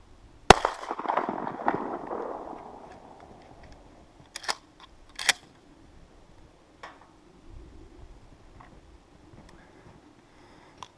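A Remington 870 12 gauge shotgun fires once at a pattern target 40 yards downrange, a loud sharp blast that decays slowly, followed by a few faint clicks and knocks of the action in a quiet outdoor setting.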